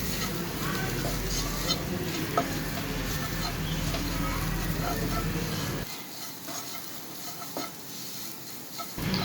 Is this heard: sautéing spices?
yes